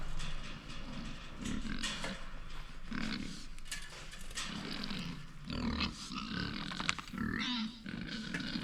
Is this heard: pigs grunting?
yes